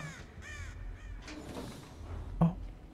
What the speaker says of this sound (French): Poussez-vous les corbeaux.